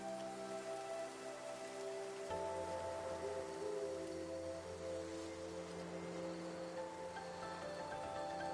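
Rain falling in a video game scene, a steady hiss of drops on surfaces layered with sustained tonal ambience that shifts partway through, continuous and with no talking.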